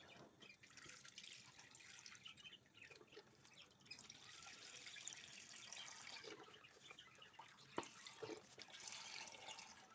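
Milk poured into a pot for a vermicelli and coconut dessert, a soft steady liquid stream and trickle running close by for several seconds, with a few small clinks near the end.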